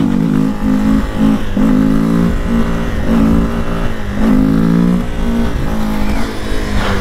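A Honda XRE 300 Rally motorcycle revs hard while being ridden at night, its loud, close engine note climbing and dropping through repeated throttle blips and gear changes.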